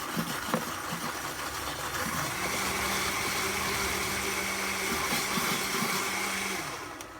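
A Vitamix blender runs steadily, whirring through a green kale smoothie with a sustained motor drone that shifts pitch midway as the load changes, loud and continuous with no talking.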